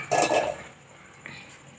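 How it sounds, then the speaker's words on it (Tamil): A cooking pot set down on a stove while preparing gooseberry rasam, giving a few close metallic clanks and clinks in a short burst, then a quieter kitchen background with one faint tap. "அடுப்பு பற்ற வச்சு ஒரு பாத்திரம் வச்சிடலாம்."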